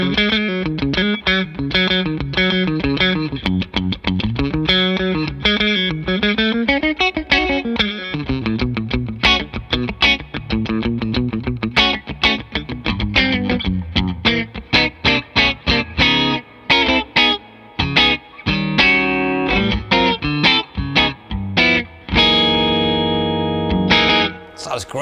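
A Macmull Stinger electric guitar played through its middle pickup position with an effects unit, a continuous run of distorted, chorused notes and chords for about twenty-five seconds, with brief gaps between phrases in the second half.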